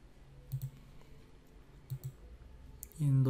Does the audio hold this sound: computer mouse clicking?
yes